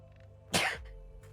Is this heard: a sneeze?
yes